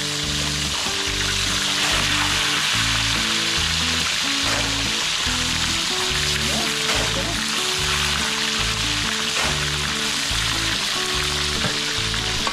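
Tilapia fries in a pan with a loud, continuous sizzle and crackle, steady throughout, with faint talk in the background.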